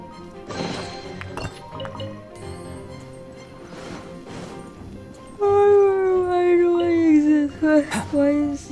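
Wolf howl in the game Genshin Impact: a loud, wavering, slowly falling cry rising over game sounds and clatter in the last few seconds, following earlier crashes and muffled effects.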